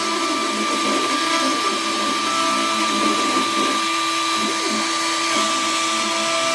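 An X-Carve CNC router carving a US Coast Guard plaque, a loud steady whine with constant tonal hum and grinding that runs unbroken throughout, close up.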